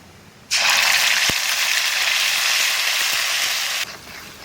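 Kalo jeere, ginger, green chili and cumin paste hit hot oil in a pan, an abrupt loud hiss that becomes a steady sizzle for about three seconds, then cuts off sharply.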